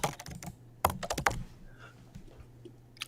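Close computer keyboard typing during a live coding interview: a few light taps, then a denser cluster of louder keystrokes around the one-second mark, fading into quieter room sound with scattered soft clicks.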